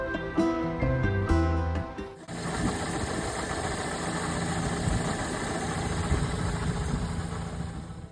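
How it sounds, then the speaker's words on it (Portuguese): A Fiat Fiorino motorhome engine runs steadily with a rhythmic ticking and whirring from its belt, close and continuous after a brief burst of tonal sound at the start. "E agora eu comecei a ouvir um barulho estranho na correia do motor."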